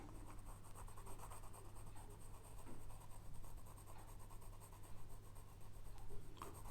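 Pencil shading with the side of the lead on paper, filling light shadow within drawn shapes: a steady, soft continuous scratchy rubbing close up, with no one speaking and a low constant hum underneath.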